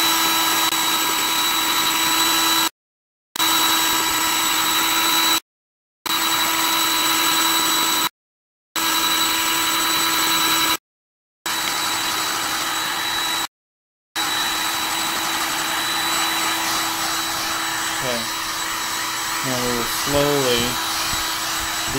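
A heat gun blows hot air over an Xbox 360 board with a steady whirring fan tone, close and fairly loud, cut by several brief gaps before it fades under light talk near the end.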